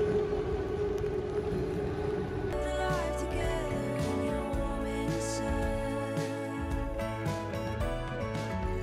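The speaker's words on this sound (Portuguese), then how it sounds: "dá pra escutar, né, o barulho? Aqui, passa, aqui dentro passa o trem" A steady low rumble of a train rolling past nearby in Paris, with clattering mechanical tones and a droning, siren-like hum throughout.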